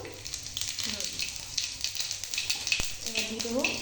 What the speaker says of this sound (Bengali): এই যে ফোড়নে এবার জিরে দিয়ে দিচ্ছি অল্প একটু।